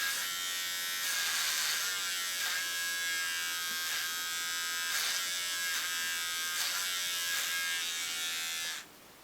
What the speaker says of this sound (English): And then get your trimmer. I only do a little bit at a time.